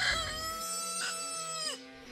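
Farm chickens cluck and call up close, a run of overlapping squawks and a drawn-out crow-like cry ringing clearly with no talking.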